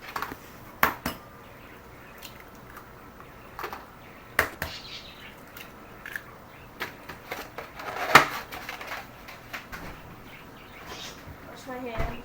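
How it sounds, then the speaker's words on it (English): Eggs crack against the rim of a bowl while chicken Parmesan is being prepared in a home kitchen, a handful of sharp taps and clinks spread out amid quiet kitchen sounds, with a person talking. "I'm just going to go ahead and crack the eggs into the bowl"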